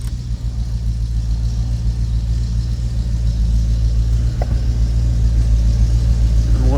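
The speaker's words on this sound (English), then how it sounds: "Start it up here quick. New dual exhaust." Idling 1985 Chevrolet K10 Silverado 4x4 with new dual exhaust, a steady deep rumble close by that holds an even, low burble throughout with no speech.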